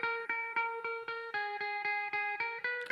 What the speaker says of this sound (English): You'll hear it sounds completely different now when I turn this phase on.